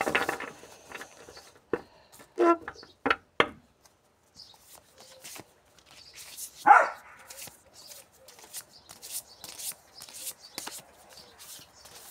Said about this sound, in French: Désolée pour mon chien qui aboie.